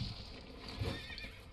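Gyoubu Oniwa's horse in Sekiro whinnies at close range, a rising neigh over the steady din of combat and hooves.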